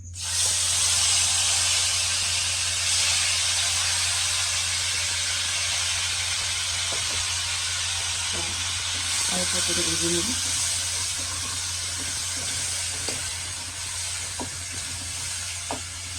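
Ground onion paste frying in a pan for a koi fish curry with cauliflower and tomato, giving a steady hissing sizzle throughout, loudest at first, with a brief faint voice partway through.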